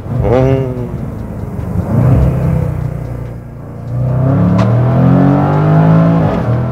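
Jaguar F-Pace SVR engine blipping on downshifts, rumbling revs rising and falling in short bursts with a brief lull before revving again, close and loud.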